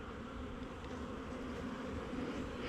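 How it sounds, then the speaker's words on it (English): Bees working pepper plants in a garden late in the crop season, a dense, continuous buzzing swarm held at a steady, faint level throughout with no voices. "look at the bees now working this"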